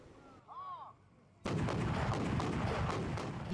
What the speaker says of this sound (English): Dozens of homemade cannons were fired by villagers in the night in Kampung Talang.